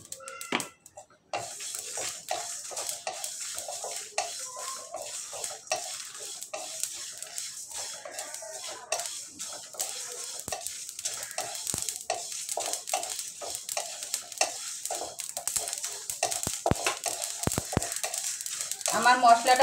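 Mustard seeds and spices crackle and sizzle in a hot pan for raw mango pickle, with a steady bright frying hiss, scattered seed pops and repeated scraping clinks of a spoon stirring against the pan.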